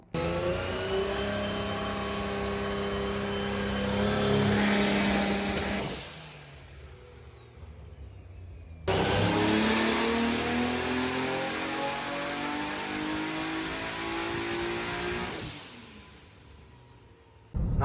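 A car engine on a workshop lift revs hard in two long sustained bursts, pitch climbing then dropping back to idle between them, loud and close with no talking.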